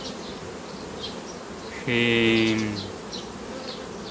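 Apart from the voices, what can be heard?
honeybees buzzing at beehives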